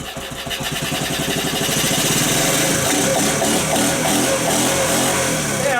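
A motorcycle engine catches and settles into a steady, loud idle, its rapid putter holding evenly throughout at close range with no speech over it.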